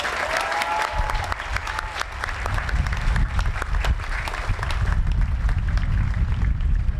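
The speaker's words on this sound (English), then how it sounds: "Let's give them a big round of applause, please." A crowd applauding at a military graduation parade, sustained clapping that is somewhat thin at first and then grows denser and louder, steady through to the end.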